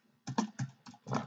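Quick bursts of keystrokes on a computer keyboard, close and clear, four or five clustered clicks with no talking.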